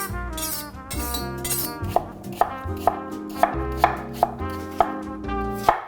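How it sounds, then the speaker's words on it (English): A knife slices apples into thin slices on a cutting board, a steady series of crisp, close chops, about one every half second, with no talk. "And then I'm gonna slice them into roughly 1/8 inch"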